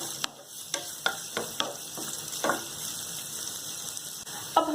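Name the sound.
chopped onions frying in hot vegetable oil in a pan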